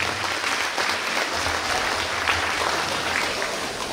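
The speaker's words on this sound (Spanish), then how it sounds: "para que pida un fuerte y caluroso aplauso" Guests at a wedding meal applaud in a steady, dense burst of clapping that fills the room at an even level from start to finish.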